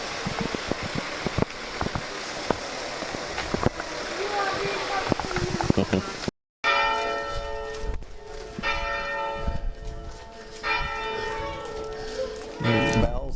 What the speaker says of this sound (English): There's bells behind